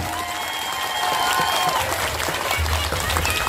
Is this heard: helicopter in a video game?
no